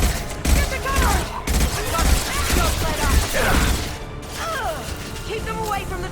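Gunfire in the game Mass Effect 2, rapid loud bursts of shots and mechanical clatter going on continuously, mixed with shouting voices.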